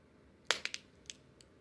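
A security tag on a piece of clothing pops off with a sharp click, followed by a few smaller snapping clicks as the plastic parts separate, close and fairly quiet.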